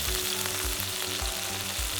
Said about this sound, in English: we're going to give it a nice sear on high heat